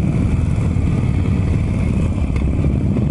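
A group of ten Harley-Davidson motorcycles, including a Forty-Eight, Fat Boy, Road King and Softail Slim, sits idling at a traffic signal, making a loud, continuous low engine rumble with steady throb and no pauses.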